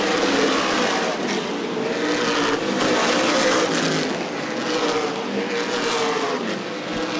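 Stock cars race around Winchester Speedway in an ARCA/CRA Super Series event, engines roaring loudly and continuously as cars pass close by, with swelling and fading engine note and no talk.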